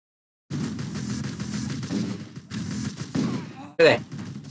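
Video game gunfire from Total Overdose, a dense, sustained fusillade of shots that runs almost continuously, with brief lulls and a sharper, louder burst near the end; no talk over it.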